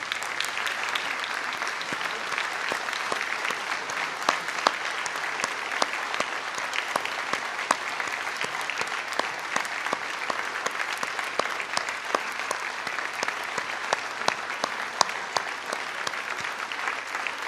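An audience at a mayor's New Year ceremony in Valognes stands and claps steadily for a long, even stretch, dense sustained applause with occasional sharper individual claps.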